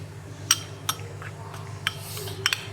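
A spoon clinks against a bowl while stirring yogurt sauce seasoned with salt and black pepper, giving a few sharp taps over a soft scraping, steady background hum; no talking.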